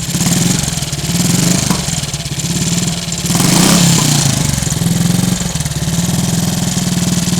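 An old Triumph Tiger Cub motorcycle engine with play in the crank mains runs close by with a steady, lumpy idle, the throttle swelling briefly in the middle before settling back.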